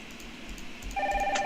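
A telephone ringing in the Nancy Drew: Danger by Design video game, a bright electronic trill that starts partway through over a low background hum and ambient game noise.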